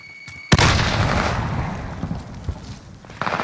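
A frag grenade in Call of Duty Warzone goes off with one sudden loud, close boom, and its rumble fades over the next few seconds. A few smaller thuds follow, and a brief sharp noise comes near the end.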